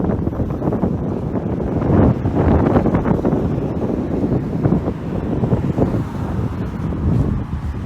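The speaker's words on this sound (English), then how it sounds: "I apologize if it gets a bit windy" Wind buffets a microphone while walking outdoors along a downtown Toronto street in cold winter weather, a continuous rumbling roar that swells and fades with no speech.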